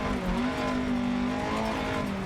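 A rally car engine drones steadily in the Dirt 2 VR racing game, its pitch holding and rising slightly under a continuous road rumble, with no talking.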